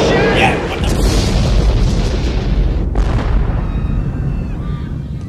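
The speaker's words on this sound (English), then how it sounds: "They're using artillery on us!" A loud, deep artillery blast from the 1988 action film Die Hard opens the clip, followed by rumbling debris and a second crack, with a voice talking over the din.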